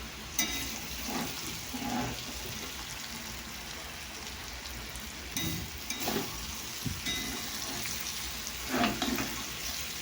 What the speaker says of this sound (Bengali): দেখো আলু ভাজা হচ্ছে, দেখতে পাচ্ছ?